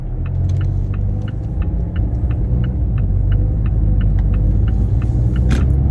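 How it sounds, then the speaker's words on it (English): A 2017 Mazda 6 Grand Touring hums along the road from inside the cabin, a steady low engine and tire rumble that swells gently as it accelerates, with a regular faint ticking running through it. "I want you to listen to the acceleration, see if you can hear it."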